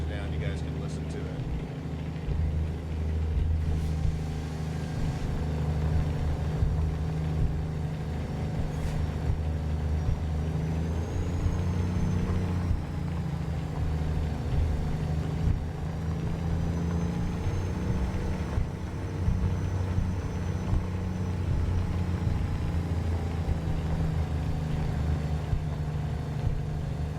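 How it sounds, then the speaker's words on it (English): A Cummins N14 engine in a truck in American Truck Simulator hums at a low, steady drone with the windows rolled down, joined by road and rumble noise throughout. "Listening to that Cummins N14 just hum is absolutely beautiful."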